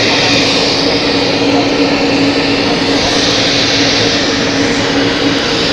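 An Airbus A220 at Zurich Airport begins to taxi, its engines a loud, steady broadband roar with a high whine on top, filling the whole stretch without pause.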